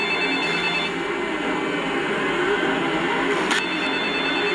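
A telephone rings steadily in a movie scene, its bright electronic tone held for several seconds against the film's background sound.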